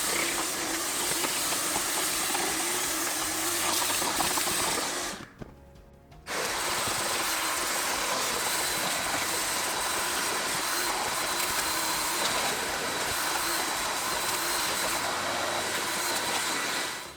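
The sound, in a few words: vacuum cleaner vacuuming plush car carpet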